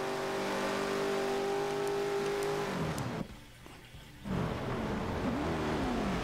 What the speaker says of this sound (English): listen to this Bentley. Ah, it just sounds so good.